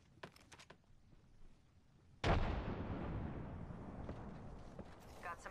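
A frag grenade goes off in a video game shooter with a sudden loud, close blast and a long rumbling tail, after a few quiet clicks and small sounds.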